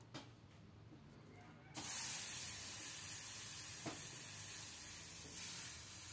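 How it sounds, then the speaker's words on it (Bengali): Hot mustard-seed tempering poured into mango dal: after a quiet start, a sudden loud, broad sizzling hiss bursts out and holds steady, with an occasional faint click. "আম ডালে সরিষা ফোড়ন দিলে খুব ভালো লাগে খেতে।"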